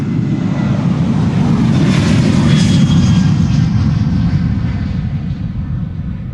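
A Transavia passenger jet taxiing at Schiphol Airport, a loud, steady engine roar that swells slightly in the middle and holds throughout, with no voices over it.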